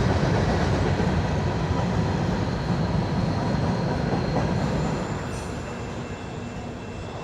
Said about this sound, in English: Got here in town just in time to see the train pass through.